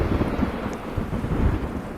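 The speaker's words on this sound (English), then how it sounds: "now it's raining." A video game thunderstorm plays as a steady wash of rain with low thunder rumbling in the background, fairly quiet, with no one talking.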